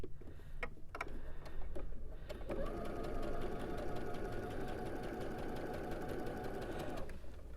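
A sewing machine runs steadily while stitching a flying geese quilt block, a few sharp clicks at first giving way to a continuous close, loud whirring hum for several seconds before it stops.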